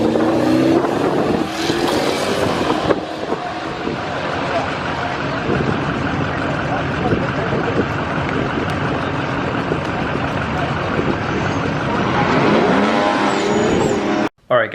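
Tuned Hemi Ram truck making a drag strip run, a loud sustained engine roar that builds and holds for most of the run, with a sharp shift-like change early and an abrupt cutoff at the end.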